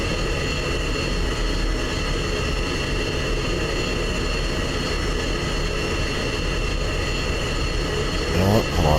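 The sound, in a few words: F-16 jet taxiing in a flight simulator video game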